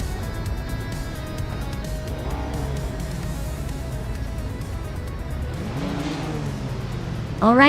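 Race cars in a racing video game at the start of a race at Queensland National Track, engines droning and revving together, with a rising rev from one car near the end and a voice talking underneath.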